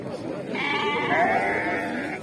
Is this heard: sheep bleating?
yes